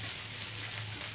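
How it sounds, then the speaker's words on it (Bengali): Vegetables for shukto frying in a pan, a soft, steady sizzle heard up close at low volume for a brief moment, with no voices. "ভালো করে ভেজে নিচ্ছি।"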